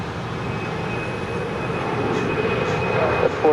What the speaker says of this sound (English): Delta Airlines Flight 412 coming in from Atlanta in the A321.